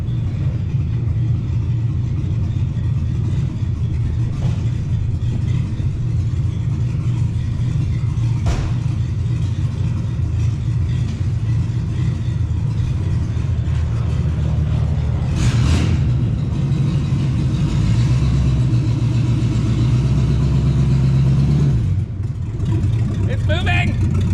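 A 1983 Mercury Capri RS, unused for 20 years, runs with a loud steady engine rumble that holds throughout, rising briefly near the end and then cutting off, while people talk over it.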